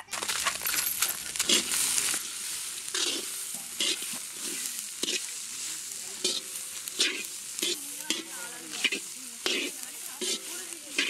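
Chopped ginger, peeled garlic and cashews stir-fried in a hot pan for chicken salna, with loud sizzling and repeated metallic scraping and clatter of a spatula, close up.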